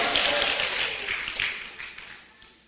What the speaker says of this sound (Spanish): Denle un aplauso a Jesús por eso.